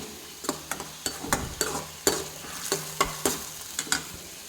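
Rasam spices frying together in a pan, a continuous sizzle punctuated by repeated scraping strokes of a spoon stirring at a regular rhythm, close and clear.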